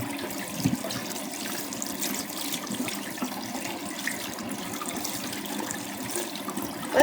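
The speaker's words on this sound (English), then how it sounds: "So let me get my hands washed off a little bit." Tap water runs steadily into a sink while hands are washed under it, a soft continuous splashing hiss at low volume with no talking.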